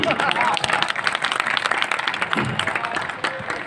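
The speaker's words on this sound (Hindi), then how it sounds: "तालियां कमजोर है आपकी।" Steady applause from an audience at a comic poetry gathering in Varanasi fills the clip, dense clapping continuing throughout without a break, with some crowd noise mixed in.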